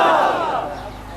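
A large crowd at a Milad religious gathering in Faisalabad, Pakistan, shouts a slogan in unison, a loud, dense roar of many voices that slowly fades.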